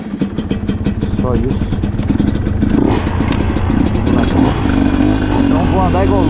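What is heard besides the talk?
MXF 250 TS motorcycle engine revving on a trail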